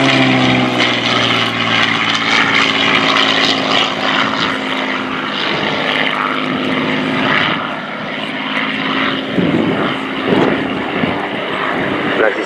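A Battle of Britain Memorial Flight Spitfire flies a victory roll during a display at RIAT 2018. Its propeller engine gives a loud, sustained, rough drone that swells and fades slightly, with a commentator's voice mixed in underneath.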